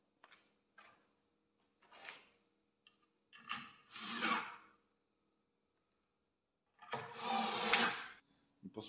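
A power drill drives self-drilling screws into a classic kitchen cabinet, with short whirring bursts that build into two longer, louder runs, close and with no talking.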